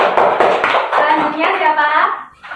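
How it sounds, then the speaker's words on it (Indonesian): A classroom of students claps for a classmate, a short burst of sharp, fairly loud hand claps at the start, followed by a teacher's voice speaking close by. "Tepuk tangan untuk Mbak Eri."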